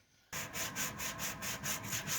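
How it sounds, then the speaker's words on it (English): Coarse sandpaper rubbed by hand over the canopy of a scratch-built RC plane, close, with about nine steady back-and-forth strokes in an even rhythm after a brief quiet start. "you're just using that coarse sandpaper for the very high stuff"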